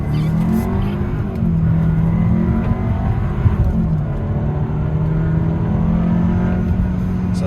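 A 2023 Kia K5 GT Line in sport mode accelerating hard, its engine note rising steadily with audible gear changes, loud and close from inside the cabin without talk.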